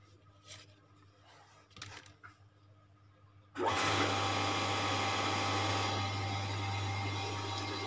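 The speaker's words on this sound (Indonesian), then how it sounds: "Tinggal kita nyalakan untuk pompanya" A Shimizu electric water pump switches on about halfway through, jumping from a quiet background to a loud, steady motor whir with a strong low hum that runs unbroken to the end.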